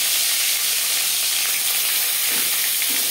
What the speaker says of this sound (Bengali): চার চামচ রিফাইন্ড অয়েল গরম করে নিয়েছি। এবার দিয়ে দেব ম্যারিনেট করে রাখা মাছ।